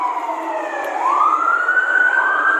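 Emergency vehicle sirens wail along a Seattle street, a steady loud tone that sweeps upward and then holds high, close and continuous with no talking.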